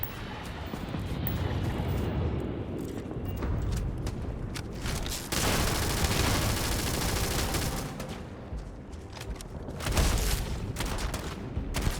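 Rapid gunfire from a weapon in the space game Starfield, dense bursts of shots and booming impacts filling the scene almost continuously, loud and close with brief dips between volleys.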